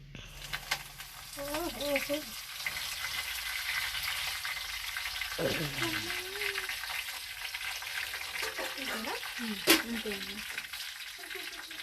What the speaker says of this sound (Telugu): పుదీనా వేయండి పుదీనా సుర్రమంటదేమో